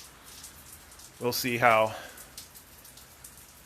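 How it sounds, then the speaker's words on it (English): Rain falls steadily outside during a storm, a soft continuous patter of drops heard quietly in the background while a person speaks briefly over it. "Now we're starting to get some rain coming down."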